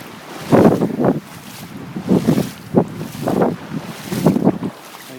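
Hurricane Sandy wind gusts hard in bursts at Point Pleasant, New Jersey, roaring and buffeting the microphone in loud surges separated by brief lulls, with no talking.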